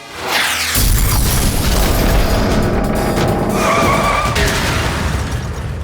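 A missile launcher explosion in an animated action cartoon, a loud, sustained roaring blast that bursts in abruptly and rumbles with a harsh rushing edge for several seconds before easing slightly.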